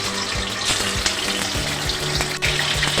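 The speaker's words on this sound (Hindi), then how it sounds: "फ्राई करेंगे इस चिकन को" Chicken frying in a karahi for Peshawari charsi karahi, a loud continuous sizzle with bubbling oil and a few scraping stirs, close up and with no talking.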